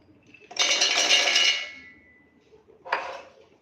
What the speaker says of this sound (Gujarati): એમાં નાખીશું આપણે મગફળીના દાણા